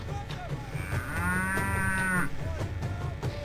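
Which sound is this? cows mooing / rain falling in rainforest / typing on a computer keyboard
cows mooing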